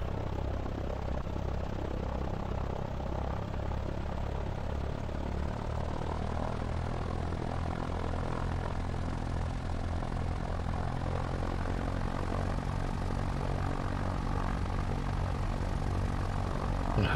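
A propeller airplane engine drones steadily in the X-Plane flight simulator, a continuous loud hum with a low tonal rumble that holds unchanged throughout, with no voices.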